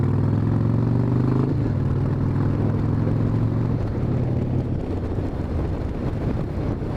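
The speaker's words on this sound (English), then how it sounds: "This thing really has good compression braking." A 1997 Harley-Davidson Wide Glide engine braking on compression, a low throbbing V-twin drone that steps down in pitch as the bike slows, heavily buffeted by wind rush on the microphone.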